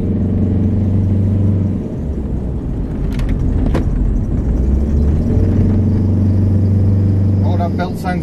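Toyota Estima Lucida Charme minivan engine and drive belt while driving on the road, a steady close low rumble and whir that holds continuously with a slight dip midway, with people talking over it.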